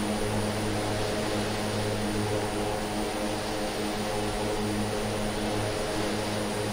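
Propeller airplane engine in Microsoft Flight Simulator drones steadily and evenly, a constant loud hum with no breaks and no talking.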